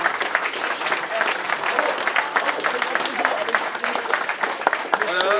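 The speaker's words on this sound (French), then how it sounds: "ils sont applaudis" An audience at a gathering in Cesson-Sévigné claps steadily throughout, with voices and laughter mixed in over the applause.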